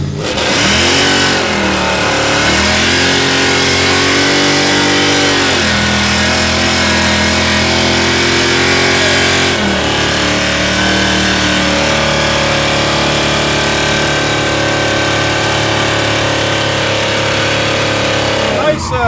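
Big block Chevrolet Impala engine revving hard for donuts, a loud continuous roar with rising and falling pitch sweeps and a brief dip near ten seconds, close by and dominating throughout.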